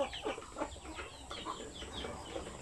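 Shamo chickens cluck and chirp in a farm pen selling chicks, with short repeated calls at close to mid distance over a steady background of other birds.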